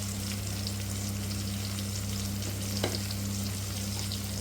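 Tomatoes fry in a pan with a constant dense sizzle and occasional stirring scrapes, heard alone under a steady low hum.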